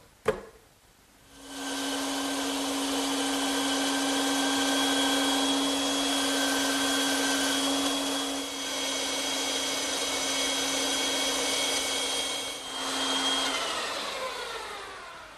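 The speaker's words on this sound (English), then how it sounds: "now I can return to the bandsaw and cut those shapes out" A bandsaw runs steadily for about twelve seconds while cutting chair arm and foot shapes from wooden blanks, a loud continuous whine with a sustained motor hum, starting after a short spin-up and winding down at the end.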